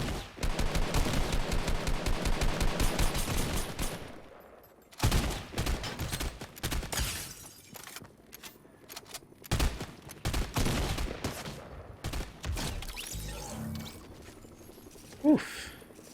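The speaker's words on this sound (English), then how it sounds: "Who's shooting? Where you at?" Rapid bursts of automatic gunfire in a Fortnite match, a long sustained volley followed by scattered shots and weapon mechanism clicks, with a player talking intermittently.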